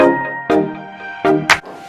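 A domestic sewing machine stitches a buttonhole on a scrubs top, giving a close, loud mechanical whir with rapid stitching bursts and shifting pitch over two seconds, with no talking.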